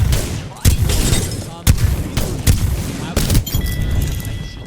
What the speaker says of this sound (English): Actually taking some shots at each other over.